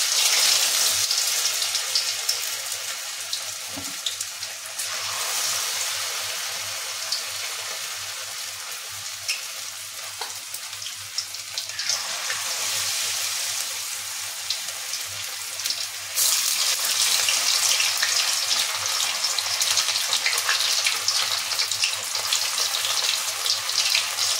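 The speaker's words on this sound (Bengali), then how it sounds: "তেলটা দেখুন গরম হয়ে গেছে, এবারে আমি একটা একটা করে এই পনিরের টুকরোগুলোকে" Paneer pieces frying in hot oil for chilli paneer, a loud, steady hiss and crackle that swells and dips as pieces are added, with a sharp surge near the end.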